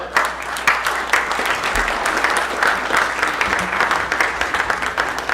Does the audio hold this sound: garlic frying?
no